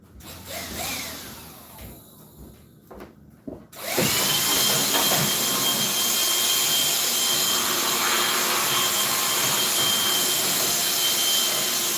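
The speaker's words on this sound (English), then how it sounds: "Let me get the dust buster." Handheld Dust Buster vacuum cleaner switching on after a few quiet handling clicks, then a loud, steady high-pitched whirring drone that runs unbroken to the end.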